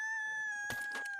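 A rooster crows in the PUBG battle-royale video game, a loud, brief, sustained call with harsh noisy bursts partway through, heard alone without talk.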